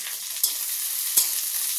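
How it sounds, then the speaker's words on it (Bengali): Onions frying in a pan until browned, a steady bright close sizzle with two brief stirring scrapes, no talk. "পেঁয়াজগুলো লাল লাল করে ভেজে নেব"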